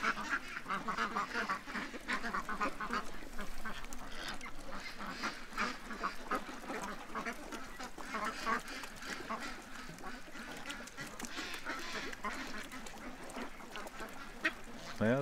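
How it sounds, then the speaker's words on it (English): A crowd of ducks heading into the water sets up a dense, continuous chorus of overlapping quacks and honks at moderate distance, busy and unbroken across the whole stretch. "Yeah, the ducks are going in."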